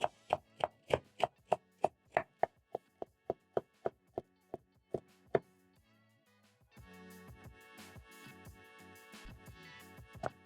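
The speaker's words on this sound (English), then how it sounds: "Thinly slice my cabbage using a sharp knife." A sharp knife thinly slicing cabbage on a chopping board, a run of crisp, evenly spaced close knocks that speed up and then fade, followed by quieter scraping and rustling as the blade runs through the shreds.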